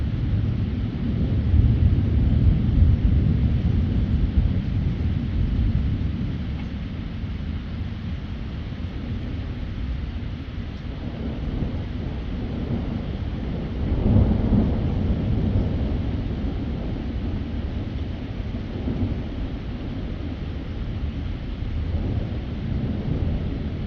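An evening thunderstorm passes through Indiana, with deep rolling thunder rumbling near and far over a constant hiss of rain, swelling loudest near the start and again midway.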